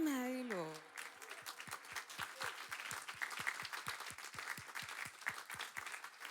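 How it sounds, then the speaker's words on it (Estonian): Audience applause at the Estonian digital awards ceremony, a crowd clapping in a fairly regular, loud rhythm after a brief tonal sound at the start. "Suur aplaus teile."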